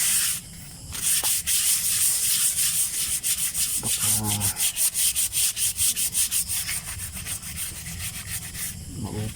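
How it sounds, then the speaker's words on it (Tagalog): Sandpaper is rubbed by hand across a rusty 7 kW electric hub motor stator, a close, rapid series of rough scraping strokes in a steady back-and-forth rhythm, broken briefly by a short spoken word. "Baka kailangan natin gamitan ng liha."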